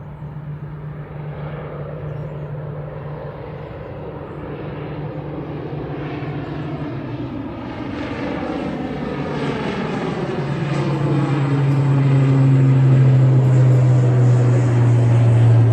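An Antonov An-12 four-engine turboprop taking off at Dublin Airport gives a loud, continuous propeller drone that grows louder and harsher as power builds, with a rising whine near the end and no talk over it.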